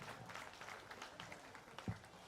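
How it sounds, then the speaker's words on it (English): Spectators at a county fair 4-H/FFA market hog show giving exhibitors a round of applause, scattered clapping in a noisy arena, fairly faint and brief, with a sharp thump near the end. "Let's show our appreciation to these exhibitors with a big round of applause"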